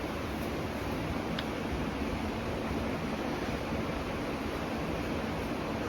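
Several ceiling fans running on high speed, including 1886, Discovery and Preference models, produce a steady broadband rush of moving air, constant and moderately loud with no talk.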